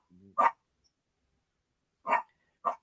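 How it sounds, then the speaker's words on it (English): A puppy lets out three short, sharp yips spaced apart, fairly close and loud, with a faint low murmur just before the first one and silence between the yips. "Somebody's got a dog yipping."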